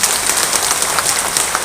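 A church congregation claps in dense, loud applause, a steady wash of many hands with no pauses.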